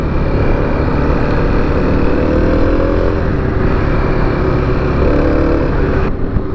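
A 2021 Kawasaki KLX300 dual sport single-cylinder motorcycle being ridden, its engine droning steadily with a throaty low rumble mixed with wind noise, loud and constant with no clear revving peaks and no talking.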